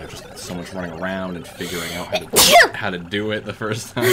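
A sudden sneeze bursts out in the middle of conversation during a Legend of Zelda: Skyward Sword gameplay session, one sharp loud burst surrounded by people talking.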